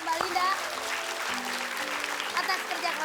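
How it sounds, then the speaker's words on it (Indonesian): Studio audience applauding on an Indonesian TV variety show, steady broadband clapping throughout with music and a host's voice talking over it. "kita tepuk tangan sekali lagi untuk Mbak Linda"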